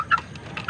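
Caged Visayan chickens give two short clucks, one near the start and another near the end, moderately close over a quiet background.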